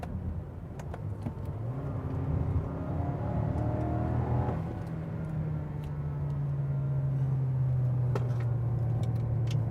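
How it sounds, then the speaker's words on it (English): A 2015 Lexus NX 200t F Sport engine hums and rises steadily as it drives through turns, revving through gear and speed changes, with a continuous close-up road rumble. "let's take this car through some of the turns again and see how the handling is"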